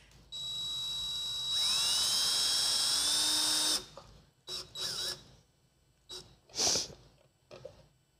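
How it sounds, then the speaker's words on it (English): A high-pitched power drill whirs for a few seconds, speeding up partway through, then stops, followed by several short bursts of noise. "Just use the drill."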